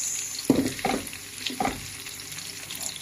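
Chopped tomato sizzles in a hot pan while it is stirred for scrambled eggs, with a few bursts of frying and scraping over a low steady crackle, close by.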